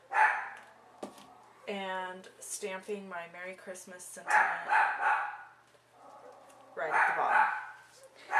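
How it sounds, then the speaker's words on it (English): A dog barks and yips in short bursts in the background of a card-making session, fairly faint and mixed with someone talking over it. "Oh, that's my dog."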